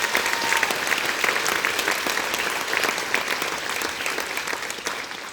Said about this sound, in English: Big round of applause for those 4 people.